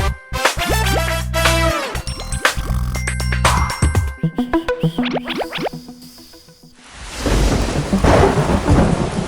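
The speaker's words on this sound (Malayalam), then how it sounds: "മഴ പെയ്യുന്നു" A bright, bouncy musical jingle in a children's cartoon gives way to a loud rumble of thunder and heavy, steady rain pouring down close by.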